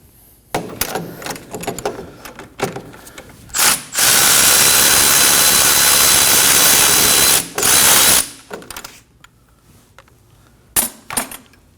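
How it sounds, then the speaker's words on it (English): A 17mm socket on a power tool spins a bolt out of a 2011-2016 Kia Optima front hub: ratchety clicks and taps, then a loud sustained four-second whir, a short extra burst, and more scattered clicks. "17mm socket, go ahead and take out this bolt"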